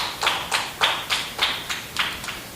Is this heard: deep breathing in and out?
no